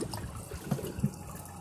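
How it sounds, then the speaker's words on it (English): Water trickles into a toilet bowl, a Kohler Ingenium or Class 5 flush system, as a low, steady flow with a couple of brief gurgling surges. "gotta let a little water into the bowl again"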